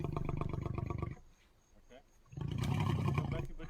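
A lion gives deep, pulsing roars in two long bursts separated by a brief quieter pause, loud and close.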